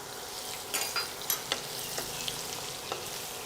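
Chopped garlic and ginger fry gently in hot oil in a pan for a green chilli pickle, a soft continuous sizzle with a few light crackles and stirring scrapes, fairly quiet and steady.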